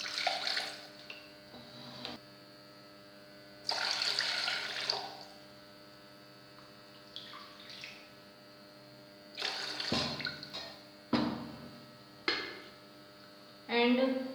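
Tap water runs in bursts into a cooking pot for rice, splashing and gurgling between quieter pauses over a steady background hum, close by with no speech.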